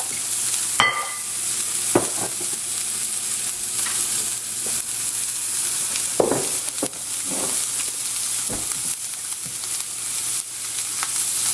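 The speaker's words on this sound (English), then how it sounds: "Three-fourths tablespoons of olive oil, and you fry your sausage." Sausage frying in olive oil on low heat gives a steady hiss and sizzle, broken by occasional sharp pops and spatters and a few stirring scrapes. No voices are heard.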